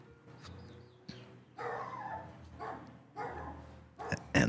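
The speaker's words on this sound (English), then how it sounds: "the dog barks in the background" A dog barks somewhere off in the background, several muffled barks and yips spread unevenly over a quiet room, with a louder knock near the end.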